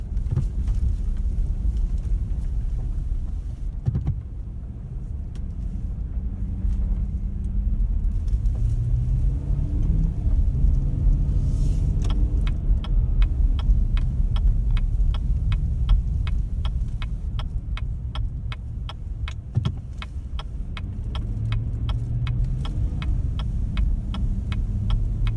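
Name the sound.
2015 GMC Yukon XL SLT driving on highway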